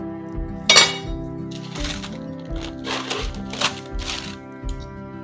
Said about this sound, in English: Dutch oven.